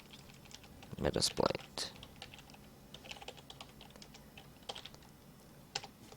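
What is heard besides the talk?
typing on a computer keyboard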